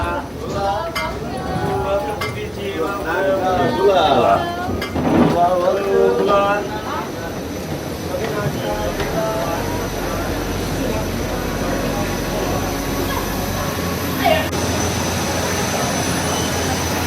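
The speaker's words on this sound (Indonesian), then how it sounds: "Akhirnya landing di Nadi, Fiji." Inside a Fiji Airways jet landing at Nadi airport in Fiji, a loud steady cabin roar of engines and rumbling wheels runs throughout, with a voice talking over it.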